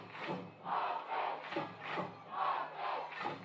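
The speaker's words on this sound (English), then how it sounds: "if this mic, leaving it on, is catching too much crowd noise, let me know" Crowd at a high school football game chanting in rhythmic, repeated swells, several loud group shouts rising and falling about every half second, heard at a distance.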